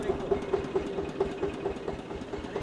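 A tractor engine idles steadily with a rhythmic low chugging knock, loud and close, with no talk over it.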